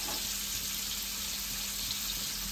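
Pearl spot fish (karimeen) fries in hot oil in a pan, a dense, constant crackling sizzle that stays close and even from start to finish, with no voices.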